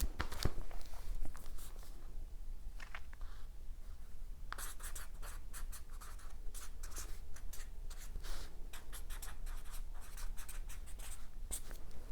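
A pen scratches across paper in quiet, close strokes, with short bursts of writing and brief pauses between words.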